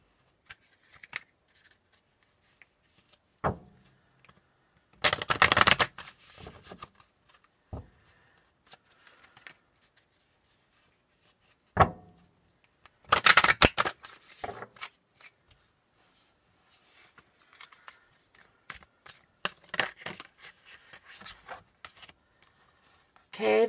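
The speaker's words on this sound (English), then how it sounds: "But at least this deck, it's not that hard to shuffle." Someone shuffles a deck of oracle cards in several short, crisp riffling bursts. Two are louder and close, separated by quiet pauses with soft handling and rustles.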